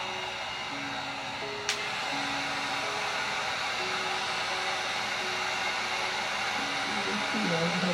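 Heat gun blowing a steady, loud stream of hot air onto a Glock 19 skin, a continuous close whoosh with a faint background hum and a single brief click.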